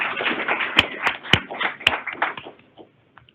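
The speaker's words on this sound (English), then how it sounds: "let's give everyone a big round of applause" A short burst of clapping from a small group at an employee award ceremony, uneven and fading out after a few seconds, with a few louder claps standing out.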